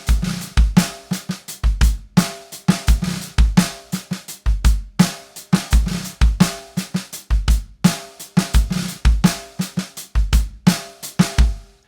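A steady drum groove with a driving kick and snare, a short buzzed snare stroke tucked into each bar, played close and fairly loud.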